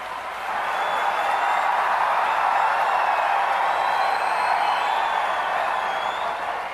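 Steady, sustained applause from a large audience at a sports awards ceremony in SMS Stadium, a broad even wash of clapping with crowd murmur lasting throughout, without individual voices standing out.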